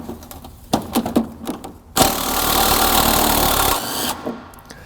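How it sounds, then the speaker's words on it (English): An impact tool hammers loose rusty headlight mounting bolts on a car, first in several short sharp bursts, then in one sustained rattling run of about two seconds, close and loud. "if it's rusty like this, strongly recommend the use of impact tools."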